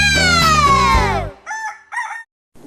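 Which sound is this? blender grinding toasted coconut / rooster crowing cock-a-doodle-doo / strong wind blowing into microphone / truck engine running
rooster crowing cock-a-doodle-doo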